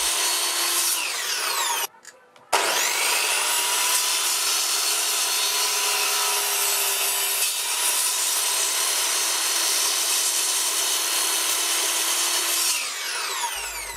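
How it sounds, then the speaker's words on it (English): A hand saw cuts steadily through wood while making support stands, a continuous rasping stroke sound that runs loud and close for most of the stretch, broken by a brief pause near the start and stopping just before the end. "After that you can saw off each support stand and finish the notches"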